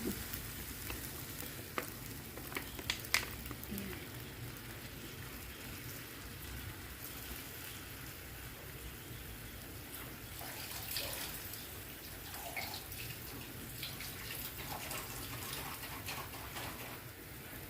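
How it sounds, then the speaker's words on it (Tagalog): Meat simmers in diluted oyster sauce and water, giving a steady, faint bubbling sizzle with occasional soft pops and clinks, constant throughout and without talk. "So, hayaan natin kumulo hanggang sa lumambot ang ating karne."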